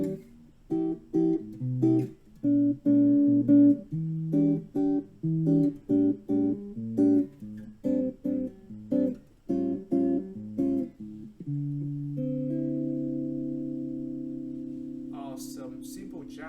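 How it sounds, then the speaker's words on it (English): A clean electric guitar plays a syncopated bossa nova chord pattern with short bouncy stabs, ending on a sustained ringing chord. "So first I want to demonstrate bossa nova"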